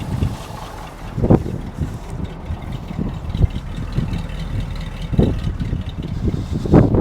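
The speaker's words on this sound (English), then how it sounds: "These old AMCs sound like diesels when they're running." Idling engine of an old AMC-powered Jeep J-10 pickup, running smoothly with a diesel-like clatter; a steady low rumble with occasional louder thumps, heard fairly close with some wind noise.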